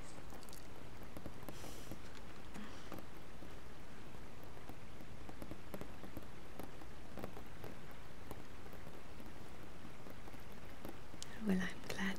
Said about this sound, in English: I do so love the sound of rain.